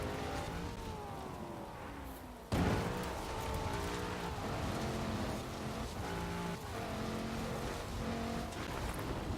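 Off-road vehicles race, engines droning and revving with shifting pitch and a sudden loud burst partway through, followed by continued motor noise and spattering hiss.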